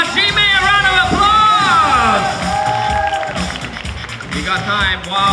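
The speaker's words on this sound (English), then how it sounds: "Let's give Hajime a round of applause" Audience at the Asia Pacific Yo-yo Championships finals cheering and clapping loudly for a competitor, with whoops and excited shouting over continuous crowd noise.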